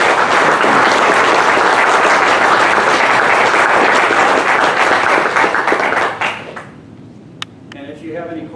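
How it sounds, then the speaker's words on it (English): Sustained audience applause fills a lecture hall on Rocky Mountain National Park geology, dense and steady for about six seconds, then fades into scattered claps and a few quiet, distant voices. "Let's have a round of applause."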